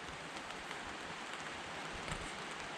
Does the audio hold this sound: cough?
no